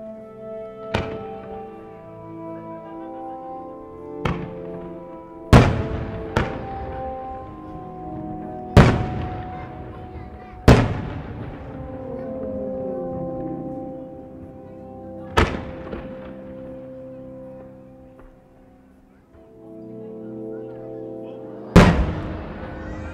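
Fireworks at the autumn Motegi fireworks festival, a display piece called Noboriginmokko no Objet, go off in sharp, echoing booms spaced a few seconds apart, each trailing into crackle over steady background music.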